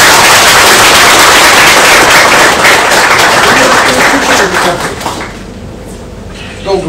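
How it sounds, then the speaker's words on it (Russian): An audience greets the psychotherapist and writer Andrei Kurpatov with loud, dense applause that holds steady for several seconds, then quickly dies away to near silence. "Прошу всех встретить аплодисментами."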